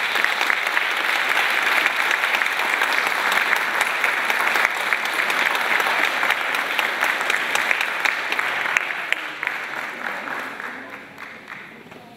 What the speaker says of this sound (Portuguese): do qual peço uma calorosa salva de palmas